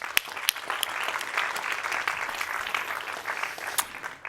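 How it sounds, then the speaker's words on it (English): Applause from an awards ceremony audience at a climate event, a steady dense wash of many hands clapping at moderate distance, with a few sharper claps standing out. "So a big applause also for our partners"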